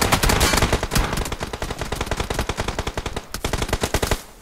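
Rapid automatic gunfire in the mobile battle-royale game BGMI, dense bursts of close, loud shots rattling nearly continuously with brief gaps.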